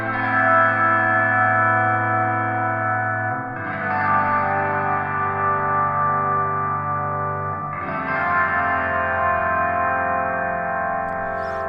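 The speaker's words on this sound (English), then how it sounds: "slightly overdriven sound with that guitar" Slightly overdriven guitar chords from the UJAM Virtual Guitarist Cinedream preset Enlighten Me, held and washed in echo, chorus and reverb, changing roughly every four seconds at a steady loud level, unaccompanied by speech.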